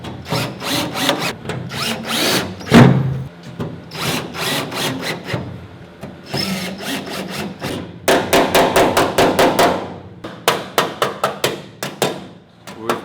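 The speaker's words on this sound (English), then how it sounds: "use our trusty hammer to make the necessary adjustments" Sharp hammer blows ring out on metal as a Porsche 914 rear trunk floor pan is adjusted into place, coming in irregular bursts and then quick rapid strikes, loud and close with no talking.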